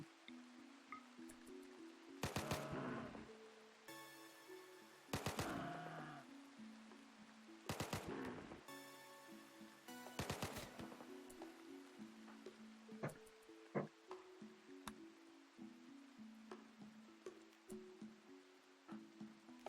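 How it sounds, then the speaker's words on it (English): Several short bursts of gunfire in RimWorld, quick clustered shots arriving in four or five separate volleys over about ten seconds, moderately loud above a steady tonal music bed and small scattered clicks. "you're going to now shoot this one."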